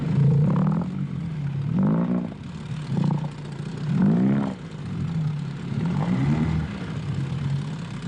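A Zodiac inflatable boat's outboard engine struggling through thick fields of algae on a weed-choked Mediterranean seabed, a loud, close motor drone rising and falling in repeated surges, with clattering rough texture and no voices.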